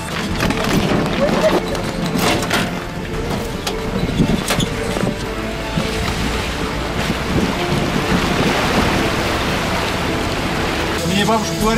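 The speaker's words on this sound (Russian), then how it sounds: "Мы прямо в речку едем" Vehicle driving into a river, a continuous rush and splash of water with rumbling and wind buffeting the microphone throughout, while people talk.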